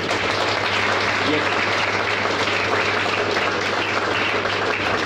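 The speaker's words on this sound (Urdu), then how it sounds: "ایک دفعہ ذرا زوردار تالیاں بجائیں۔" A church congregation at a pastor's sermon breaks into vigorous clapping, a thick steady roar of many hands that holds at an even, loud level for the whole stretch over a low steady hum.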